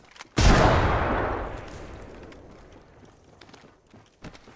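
A single loud gunfire burst rings out in the Apex Legends video game, then decays into a long, fading reverberant tail, with a few faint clicks and taps near the end.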